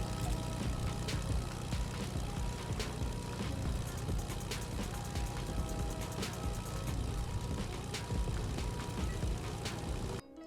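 A propeller plane in Fortnite Battle Royale drones steadily and close by throughout, with a constant engine hum and faint clicks scattered over it.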